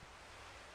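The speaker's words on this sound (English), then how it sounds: "That's the sound of the waves." Ocean waves as heard held to a seashell in the video game Never Island: a steady, hollow rushing wash with no clear breaks, even and continuous throughout.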